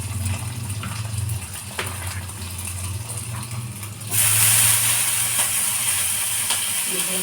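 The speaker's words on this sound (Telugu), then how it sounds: "అదే ప్యాన్ పెట్టుకొని ఇప్పుడు కొంచెం బటర్ వేసుకొని" Homemade butter melting and sizzling in a hot pan while making upma, a steady hiss that jumps up sharply partway through and stays loud.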